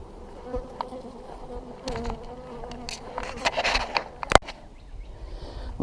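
Honey bees from a newly installed package hive buzz steadily and close, a dense droning hum with individual bees swelling louder as they pass near, plus a sharp knock partway through.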